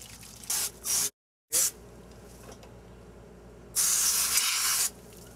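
Water sprays in short bursts while flushing an RV hot water tank, with a longer hissing spray near the end and quiet dripping between bursts. Close and moderately loud.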